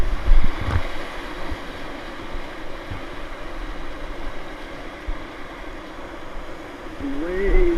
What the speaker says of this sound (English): Some waves.